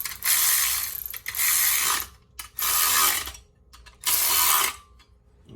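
A ratchet tightens shifter bracket bolts in four quick bursts of loud, close clicking, separated by short pauses.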